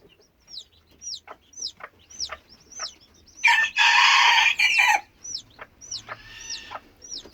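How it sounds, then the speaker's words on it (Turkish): Several short bird chirps repeat through the clip, broken by a loud, rising rooster crow lasting over a second in the middle, in a chicken coop with newly hatched chicks. "Garip Paşam da ötüyor Garip Paşam."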